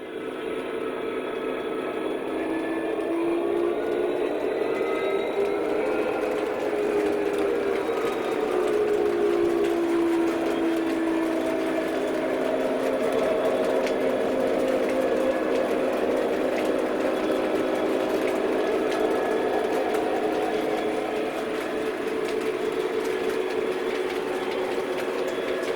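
A model train locomotive runs along its track with a continuous mechanical hum and rattle. The tone rises and falls slightly as it travels, steady and close throughout, with no talking.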